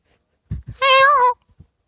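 A single drawn-out, wailing call from a human voice imitating a peacock, rising and falling over about half a second, framed by a few soft breathy sounds.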